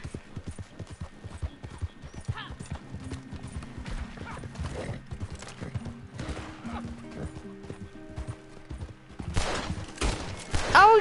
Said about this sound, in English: Oh, I'm shooting you